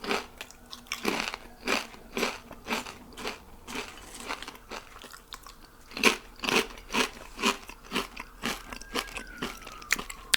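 Close, crisp crunching of crunchy food being bitten and chewed in a steady rhythm, each bite a sharp crackly burst.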